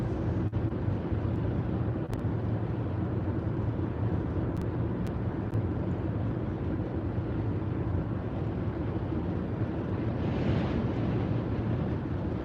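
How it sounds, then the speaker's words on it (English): Strong wind blows steadily outdoors under fast-moving clouds ahead of an approaching storm, a continuous broadband roar buffeting the microphone with no letup and no one talking. "I don't know if you can hear that wind."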